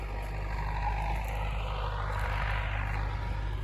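A tractor drags a homemade cultivator across a neglected field during pre-sowing tillage, giving a steady low engine drone that swells and fades slightly as it turns, with no talk over it.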